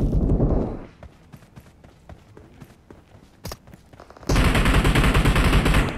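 Rapid automatic gunfire from a first-person shooter gun-game match with an MP5 and other rifles: loud bursts open the clip, scattered shots and footsteps follow, then a dense, sustained volley closes it.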